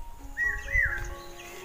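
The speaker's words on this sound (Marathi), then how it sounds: "कोकिळेचा आवाज बघ." An Asian koel calls once, a short rising whistled note heard at moderate distance against a quiet rural morning after the first monsoon rain, with no one talking.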